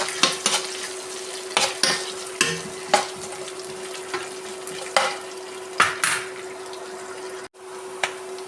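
Onion, green chili, dried chili seeds and curry leaves being sautéed in a pan: a steady sizzle punctuated by regular scraping and tapping strokes of a spoon against the metal, up close and loud.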